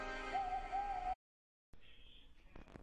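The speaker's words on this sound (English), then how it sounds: "Whenever that owl hoots" An owl hoots in a short wavering call, heard alone against a quiet background before a pause and a softer stretch of ambient sound.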